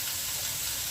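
Stuffed veal breast searing in a hot pan gives a loud, steady, broadband sizzle, a continuous close hiss of fat and moisture frying with no pauses.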